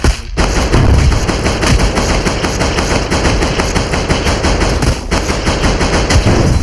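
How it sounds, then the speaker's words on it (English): Sustained rifle fire in the VR game Voxel Playground, a loud, rapid, continuous stream of shots lasting several seconds with only a brief break near the start. "Let's use the rifle."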